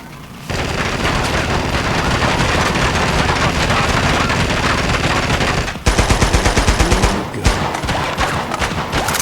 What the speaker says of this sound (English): He's got a gun!